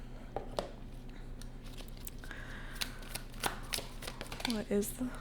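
Tarot cards from a rainbow-themed deck are shuffled up close in a quick series of soft riffling snaps and taps, and there are faint sounds of handling.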